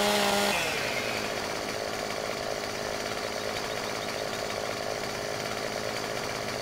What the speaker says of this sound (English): let's get the chainsaw back out